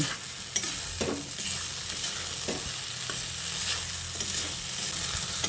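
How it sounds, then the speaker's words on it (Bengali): Fried potatoes and yardlong beans being sautéed with spices in a pan, a continuous close sizzle broken by repeated scraping and stirring strokes of a spatula, with no talking. "এবার এই আলু আর বরবটিটা দিয়ে মশলার সঙ্গে ভালো করে কষিয়ে নিচ্ছি"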